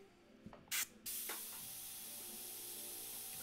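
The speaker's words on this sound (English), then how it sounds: "Oh yeah, now it's spraying really well." An airbrush sprays paint on a portrait after its clogged vent hole is cleared, a steady close hiss following a couple of short bursts, with no talk.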